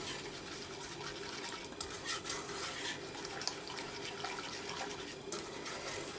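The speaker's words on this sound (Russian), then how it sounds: "Теперь берем венчик, все размешиваем." Steady, soft scraping and swishing of a whisk stirring a chocolate mixture of flour, sugar and cocoa in a pot, continuous throughout with small clinks.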